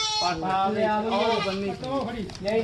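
Goats bleat loudly and repeatedly, several wavering calls overlapping close by with a busy crowd murmuring beneath, at a goat market in Harike Kalan village, Punjab.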